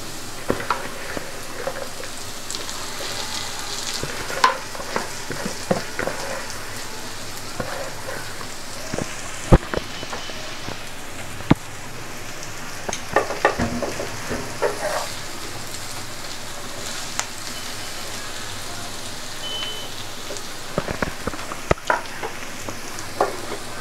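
Dudh kochu greens fry with onion and garlic in a pan, giving a steady rain-like hiss of sizzling broken by sharp ticks and spatula clicks, close and with no talking.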